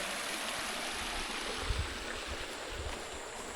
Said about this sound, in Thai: โอ้น้ำเย็นน้ำไหลคักขนาดพี่น้อง